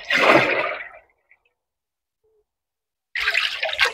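Water poured from a 10 litre watering can onto a long carrot barrel comes in two fairly loud, close splashing bursts with a quiet pause between them.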